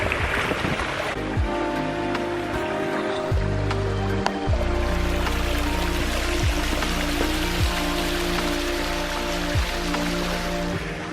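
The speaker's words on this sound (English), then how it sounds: "At the lower tiers of Newtown Falls, and this is like the wimpiest waterfall I've ever seen." Small, weak waterfall at the lower tiers of Newtown Falls on Mt Wellington, a steady close trickle and splash of running water with a few irregular low knocks mixed in.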